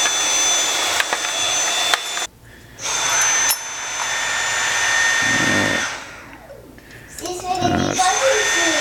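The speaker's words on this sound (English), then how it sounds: "should we use our new vacuum to clean it up?" A small vacuum cleaner picks up aluminum shavings, its motor whirring loudly in bursts that cut in and out, with a child and an adult talking over it.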